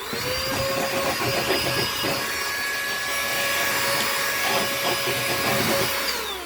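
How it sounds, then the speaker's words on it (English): Vacuum cleaner running steadily with its nozzle removed, sucking dust out of a home PC during maintenance, a continuous whine with rattling debris throughout, no speech. "I'll take off my nozzle. There you go. Vacuum."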